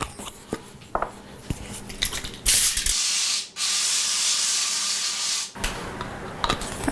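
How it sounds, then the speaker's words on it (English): Two long, steady hissing sprays of cooking oil from a pump bottle onto aluminum foil, each lasting a couple of seconds, between quiet handling and crinkling sounds. "We need to spray the aluminum foil"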